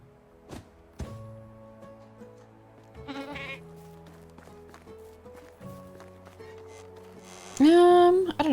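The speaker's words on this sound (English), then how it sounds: "Oh, goats are so cute." Goats bleat in the medieval farming game Medieval Dynasty, a loud, close, wavering cry near the end over steady game music, with softer animal noises and light footsteps earlier.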